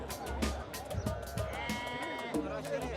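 Sheep bleat at a livestock market in Tunisia, several wavering calls rising over a busy background of voices and crowd noise, with talk running underneath throughout.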